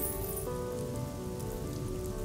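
Steady rain pours down onto a surface, a dense continuous hiss with no pauses and no voices.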